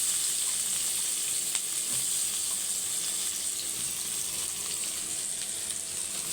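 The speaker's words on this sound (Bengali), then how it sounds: "পেঁয়াজগুলো কালার চেঞ্জ হওয়া পর্যন্ত অল্প কিছুক্ষণ ভেজে নিব।" Onions frying in hot oil in a pan, cooked alongside prawns for a pointed gourd dish: a constant, even hiss of sizzling close up, with no voices.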